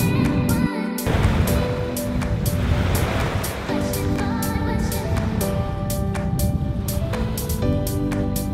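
Sea waves wash onto the shore of Lübeck Bay, a continuous close surf roar with wind buffeting the microphone.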